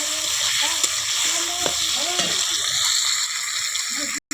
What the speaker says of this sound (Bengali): ওই তেলটাই চিংড়ি মাছগুলো ভেজে নেব